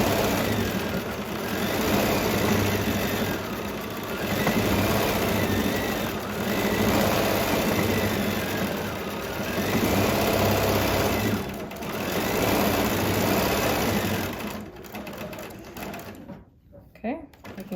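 A sewing machine does free-motion quilting in a steady, continuous mechanical whir at close range, its pace easing in places before it slows and stops for a tiny back stitch near the end.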